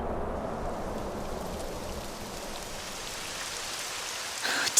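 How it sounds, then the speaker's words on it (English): Steady rain falls in the video game Dragon Quest XI, a dense, even wash of patter that holds throughout, with no talk and a small bump at the very end. "It would have to go and start raining, wouldn't it?"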